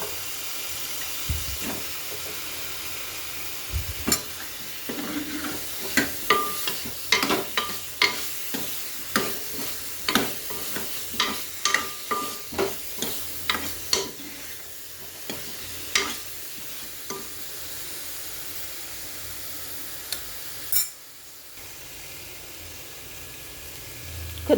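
Raw banana pieces frying in masala oil make a continuous quiet sizzle, with a run of sharp spoon knocks and scrapes against the pan through the middle stretch, close by, then the cooking settles back to a soft hiss.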